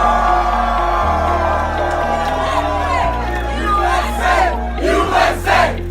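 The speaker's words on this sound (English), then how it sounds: "Everyone cheer." A crowd of young people cheering and whooping at a staged rally in the White House East Room, loud overlapping shouts rising in bursts over a low backing music beat.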